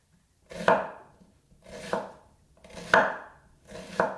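Four slower, heavier knife chops cut an onion finely on a board for a grass-fed beef burger, each a firm thud with a short tail, close by and alone.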